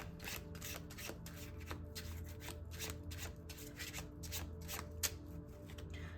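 A deck of tarot cards shuffled by hand, with rapid, repeated riffling and rubbing bursts in a steady rhythm, close and soft, with no talking.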